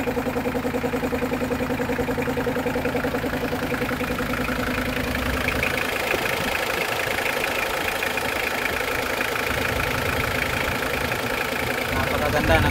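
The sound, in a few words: Mitsubishi Pajero 4D56 turbo diesel engine running after overhaul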